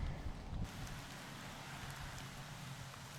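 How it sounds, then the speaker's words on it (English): Steady rain falls across an outdoor disc golf course during a championship final round, a dense, continuous hiss with a brief louder burst at the start, no voices. "you can get an idea of the rain there in the background"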